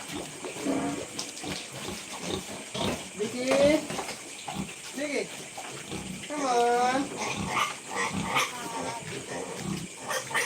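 Hungry pigs on a farm at night squealing and grunting in repeated loud, rising cries, close by, with splashing water and someone talking over them.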